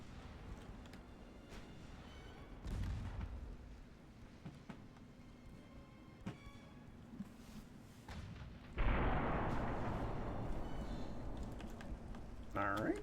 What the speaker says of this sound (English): shoot the front of a light cruiser and blow up a torpedo